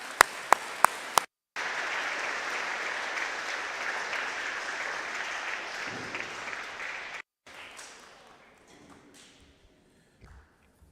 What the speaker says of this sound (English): Can we give one more round of applause for our choir and our band?